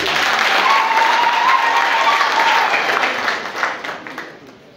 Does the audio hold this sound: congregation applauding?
yes